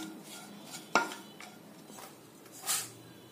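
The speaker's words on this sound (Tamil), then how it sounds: "அந்த தவா ஹீட்லயே நம்ம இடிச்சு வச்சிருக்கிறோம் இல்லைங்களா சுக்கு, அதை ஒரு பெரட்டிக்கோங்க" Crushed dry ginger stirred on a hot tawa with a metal utensil, a sharp clink followed by faint scraping and rustling, quiet and close.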